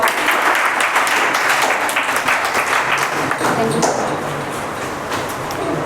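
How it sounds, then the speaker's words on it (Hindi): A coaching class of students applauds the first-place topper at a test awards session, a sustained, fairly loud crowd clapping that holds steady and then tapers slightly toward the end. "तालियां बजाओ"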